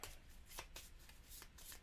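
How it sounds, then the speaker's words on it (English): Playing cards for the board game Dead of Winter are shuffled by hand during setup, giving several quick riffling bursts in a row, close but very quiet, with no talk. "A lot of shuffling in this game."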